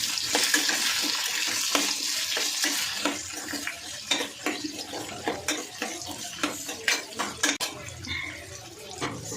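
A spoon stirs a potato masala mixture in a pan, giving a busy run of wet scraping and clattering knocks against the metal, close and fairly loud.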